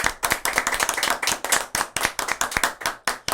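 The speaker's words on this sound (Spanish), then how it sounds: "Así que con un aplauso fuerte aplaudimos a todos los que están ahí en pantalla." Brisk clapping from a small group during a Christian radio show broadcast, a quick run of sharp, close hand claps with an uneven rhythm and no voices.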